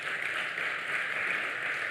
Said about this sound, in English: Please clap for my boss as she comes.